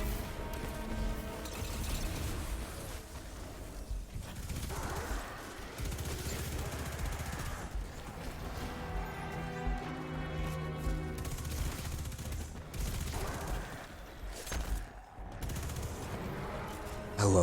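Rapid SMG bursts in Destiny 2 rattle continuously through a busy firefight, layered with other weapon fire, impacts and game effects at steady high intensity.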